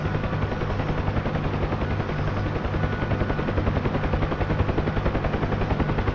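The rotor of a UH-1 Huey helicopter in a flight simulation game thuds in a steady, rapid beat under a loud, continuous engine whine, with no voices.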